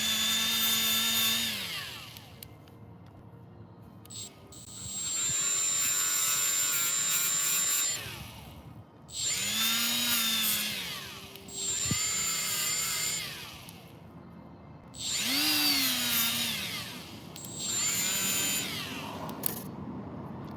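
A power tool grinds or wire-brushes a steel oil pan from a Scion xA in four loud, close bursts of several seconds each, the motor whining up and down between short pauses.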